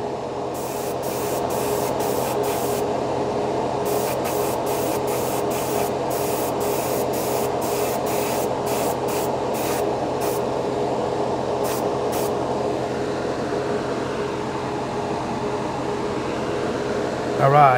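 Paasche H Series airbrush spraying paint in a steady continuous hiss for nearly eighteen seconds, broken by brief on-off bursts of air near the start, close and fairly loud with no talking.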